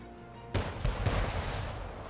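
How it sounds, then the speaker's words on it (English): Cannon shooting from ships in the strategy game Anno 1800, a sudden booming onset followed by a rolling series of dull, heavy blasts that stay loud and dense to the end. "What is the shooting about?"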